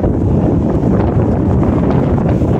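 Strong, gusty wind drives blowing snow across open ground in subzero cold, a steady loud roar and rumble of buffeting air filling the whole span with no pauses and no one speaking.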